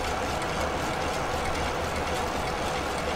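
Boeing 737-300 engines at idle thrust in the X-Plane 11 flight simulator produce a steady, dense broadband roar and hum that stays constant and loud throughout with no speech.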